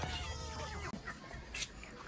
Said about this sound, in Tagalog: ang gugulo ng mga manok